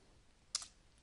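A single quick keystroke clicks on a computer keyboard while search words are entered, a short crisp tap in otherwise quiet surroundings.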